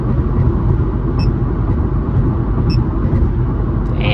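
An Infiniti G37 sedan drives over a bumpy road, heard from inside as a steady, loud low rumble of road and engine noise with a couple of faint knocks and rattles from the bumps.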